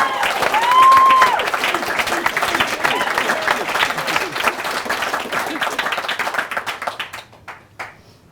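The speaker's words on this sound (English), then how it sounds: "round of applause, please." Wedding guests applauding during the speeches at a reception, a full burst of clapping that holds steady with a cheer rising early on, then tapers off and ends in a few scattered claps.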